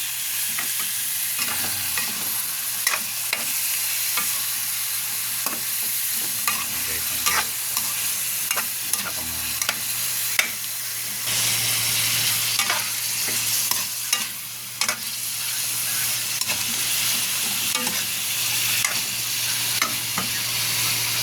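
Pork spare ribs sizzle steadily in a hot pan, with repeated scraping and stirring strokes of a utensil over a continuous loud frying hiss.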